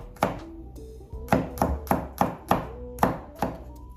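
Garlic cloves chopped on a cutting board for marinated cabbage with vegetables, a steady run of about ten crisp, close knife thunks in an even rhythm, with no talking.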